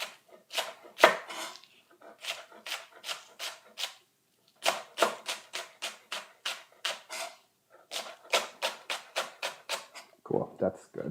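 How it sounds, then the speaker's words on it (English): Scallions for pancakes are chopped roughly with a knife on a board in steady, crisp strokes that come in fast runs with short pauses, close and clear, while someone talks briefly at the end. "Now just roughly chopping this up so that it kind of like fits in the dough better, right?"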